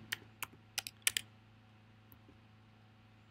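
Typing on a computer keyboard to enter a command, heard as a short burst of about six sharp key clicks in the first second and a half, then a near-silent pause and one last click at the end.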